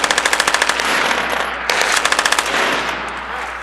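Machine gun fire at a shooting range, loud close bursts of rapid automatic shots in quick rhythmic strings, two main bursts separated by a short gap with echoing roar between.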